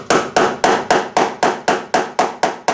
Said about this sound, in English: get it close with my tack hammer